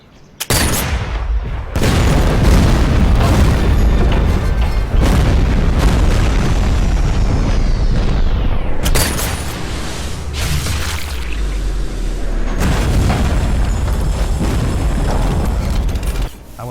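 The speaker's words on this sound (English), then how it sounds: "The explosives should have triggered." Explosives detonate in the video game Sniper Elite VR: loud, close booms with rumbling debris and mechanical clatter, and a fresh blast strikes after a short lull.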